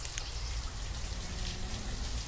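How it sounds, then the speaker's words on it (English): Steady rain pattering in the Banished video game, a soft continuous patter of drops with no voices. "This rain is just atrocious, right?"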